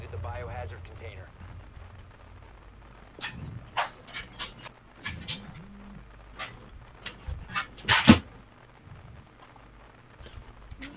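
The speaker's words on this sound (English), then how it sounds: "Sorry for my dog." A pet dog pants and whimpers nearby during an online shooter game session, with soft breathy panting and scattered faint whines and thumps under intermittent human speech.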